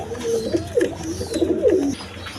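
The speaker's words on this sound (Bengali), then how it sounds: "এখানে এক পেয়ার গিরিজিয়াল কবুতর আছে দেখেন" A pair of Giriwaz pigeons cooing close by, several rising and falling throaty coos in quick succession over a quiet background.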